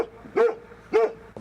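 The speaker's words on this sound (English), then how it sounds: "A pack of dogs greeted us at the helicopter pad" Dogs at a remote Arctic meteorological station on an island, likely a pack of them, bark twice in sharp, evenly spaced yips, fairly near with a low hum in the background.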